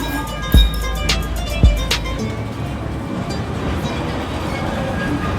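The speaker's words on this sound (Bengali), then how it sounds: "ওকে অলরেডি আমরা ট্রাম আসছে তো ওটা মধ্যে যাইব" A tram pulls in at Eminönü, Istanbul, marked by two heavy clunks near the start and then a steady, loud rolling rumble close by.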